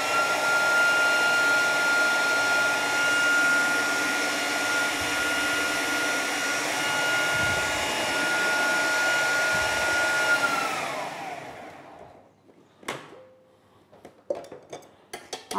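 Electric kitchen mixer whirring steadily with a high, even drone while almond tart batter is prepared. It slows and stops after about eleven seconds, followed by clinks of utensils and bowls.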